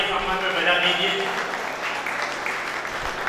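Audience at a large national Hindi poetry gathering in Bhiwani claps loudly and steadily in honour of a poet, a dense sustained applause with voices faintly mixed in.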